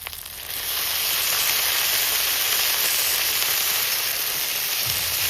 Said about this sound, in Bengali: এই দেখুন সব বাটা মশলাটা ভালো করে কষিয়ে নিয়েছে, তেল ছেড়ে দিয়েছে